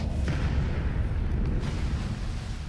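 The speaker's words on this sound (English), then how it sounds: "The explosion hit me full in the back and knocked me straight down." A deep, rumbling explosion with sustained low booming and crackling that rolls on throughout, loud and close, no voices.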